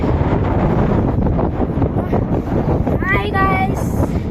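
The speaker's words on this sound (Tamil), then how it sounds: "காத்து என்னையே தள்ளுறாரு" Strong wind buffets a microphone outdoors on a trip to a fox cave, a loud continuous roar and rumble throughout, with a short burst of voice near the end.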